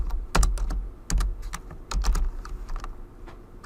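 Fast typing on a computer keyboard during spreadsheet work, close and crisp, with irregular bursts of key clicks and short pauses between flurries, no voices.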